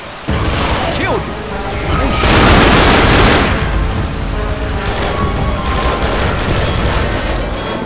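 In the Left 4 Dead 2 video game, guns fire at the Tank boss, with rapid automatic bursts and heavy booming blasts layered over in-game clatter, loud and close, with a louder surge partway through.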